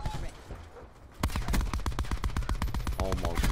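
Rapid automatic gunfire in Call of Duty Black Ops 4 sets in after a quieter opening second, a dense, steady stream of sharp shots running to the end, with faint voices underneath.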